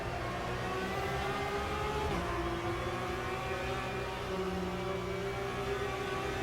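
A race car in the RaceRoom racing video game accelerates out of a corner, a steady loud engine drone with shifting pitch and a brief gear change, continuous throughout.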